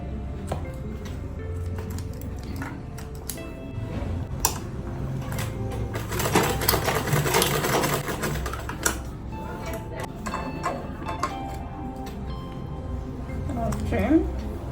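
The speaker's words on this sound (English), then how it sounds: "I'm sewing the side panel now." Domestic sewing machine stitching the side panel of a sturdy Ankara fabric bag, a steady mechanical clatter running in bursts through the clip, near and moderately loud, with a voice speaking over parts of it.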